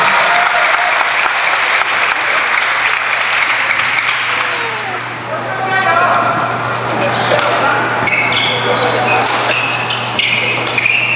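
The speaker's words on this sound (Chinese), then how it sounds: "当然热烈掌声" A crowd applauds loudly at a 2010 badminton exhibition match between Lin Dan and Bao Chunlai in Los Angeles. The clapping is sustained for several seconds, then fades as voices and court sounds come through.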